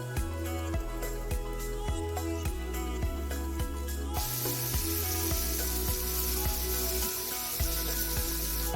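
Ingredients hit hot grease in a pan for a copycat Panda Express mushroom chicken, and a steady hissing sizzle swells up halfway through beneath upbeat music with a bouncing bass line.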